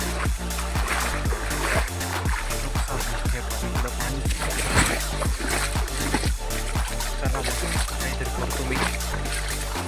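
Water is bailed out of a rain-flooded cotton field in repeated close splashes and sloshes at a quick, steady rhythm under a constant watery rush.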